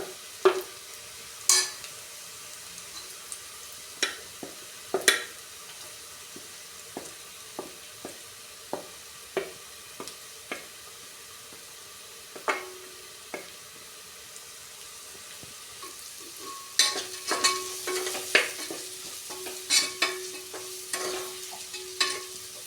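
Beef sizzles in a pan with spices while a spoon stirs it, giving sharp scraping strokes at irregular intervals over a steady frying hiss. The stirring grows busier and more continuous toward the end.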